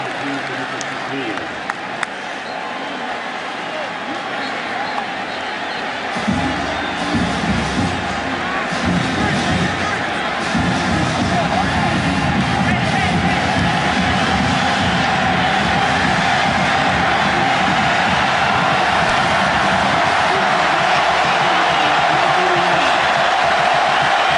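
Football stadium crowd at Auburn vs South Carolina roaring during a Gamecocks possession, a loud continuous roar that swells after a few seconds and stays heavy, with a commentator's voice over it.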